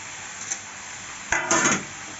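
Fried vegetables added to cauliflower stalks in a pan and stirred: quiet scraping, then a sharp knock followed by a brief clatter of ingredients and utensil against the pan.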